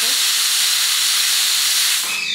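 A pressure cooker cooking dal lets out a loud, close rush of hissing steam from its whistle, sustained for about two seconds before cutting off.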